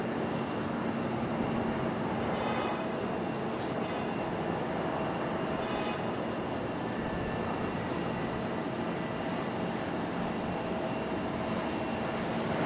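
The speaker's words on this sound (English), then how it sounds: "Speaking of United, there's another A319 touching down this time." A United Airbus A319 touches down at Raleigh-Durham International Airport, a steady, broad jet roar that holds evenly throughout at a moderate distance.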